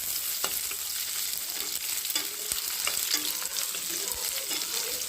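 Mustard seeds, fennel seeds and curry leaves sautéing in hot oil for a mushroom coconut kurma, a steady close sizzle with sharp pops and crackles and occasional scrapes of a stirring spoon.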